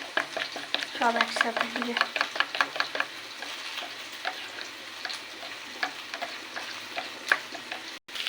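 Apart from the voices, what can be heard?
whisking ground spice paste with yogurt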